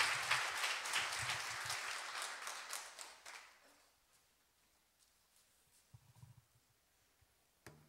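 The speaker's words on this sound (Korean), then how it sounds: "박수로 맞이해 주시길 바랍니다." Applause from a church congregation at a Friday service fills the first few seconds, then fades into near quiet with a few scattered faint claps and thumps.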